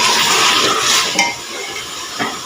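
Garlic and onion cooking in a pot for a simple beef curry, giving a steady close sizzle with stirring scrapes and a couple of brief clinks of a utensil against the pot.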